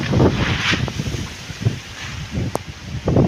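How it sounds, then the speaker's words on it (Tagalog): Gusty wind buffets the microphone in uneven bursts, with rustling of trees swaying nearby; no talking. "Ang galaw ng mga puno at ang bilis po ng hangin dito."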